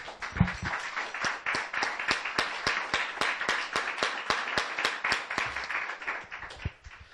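A church congregation claps in a steady, rhythmic unison beat after the pastor calls for applause to God, loud and close, with a few faint voices underneath.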